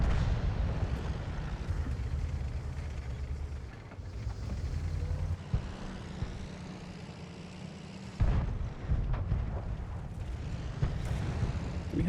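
Artillery fire in a World of Tanks battle at tier 5: a deep, continuous rumble broken by a few heavy booming blasts, one midway and a louder one later, with no one talking.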